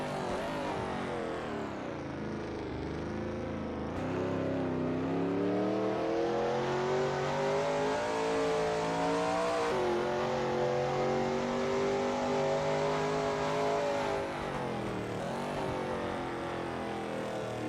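A Shelby Mustang GT350R races around Sebring in a racing video game, its engine roaring loud and steady throughout as the revs climb and dip through gear changes and corners, with no voices.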